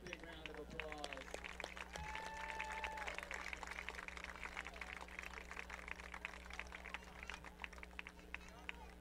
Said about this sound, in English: Let's give all these kids a big round of applause.